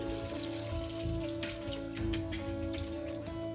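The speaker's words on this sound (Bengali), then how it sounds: "এর সঙ্গে আমরা কড়াইয়ের উপর যোগ করবো সামান্য কিছুটা পরিমাণ জল।" Water poured into a kadai of patal posto, a Bengali dish of pointed gourd in poppy seed paste, giving a steady splashing, raindrop-like patter with a sizzle, continuous and close, under a low background hum.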